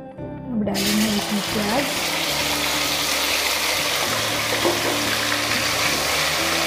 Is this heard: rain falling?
no